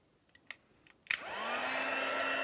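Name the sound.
heat embossing tool heating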